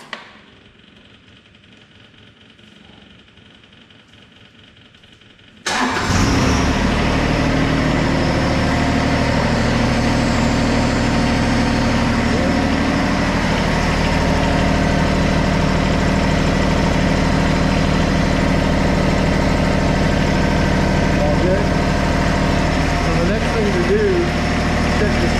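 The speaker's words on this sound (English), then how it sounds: "let's come over here and start the tractor." A tractor engine fitted with a hydraulic performance kit is started after a few quiet seconds. It catches abruptly and settles into a loud, steady, low idle that rumbles on close by.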